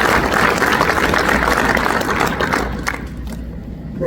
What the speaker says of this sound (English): just a round of applause for the families